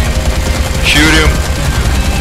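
Video game gunfire in Dead Rising 3 arcade mode, a dense rapid rattle of shots under game noise with a brief swooping effect in the middle, loud and close.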